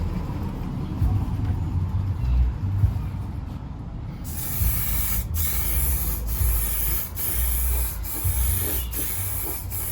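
Aerosol can of lacquer spraying onto a 2005 Jeep Grand Cherokee WK/WH front bumper: after a few seconds of quiet, a broad steady hiss starts and runs on with brief breaks as the nozzle is pressed in bursts, fairly close.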